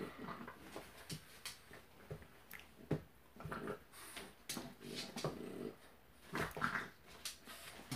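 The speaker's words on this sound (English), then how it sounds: "My dogs are playing on the floor." Dogs playing together on a floor indoors, with a run of growls, snuffles and small whines in uneven bursts at close range, with no talking.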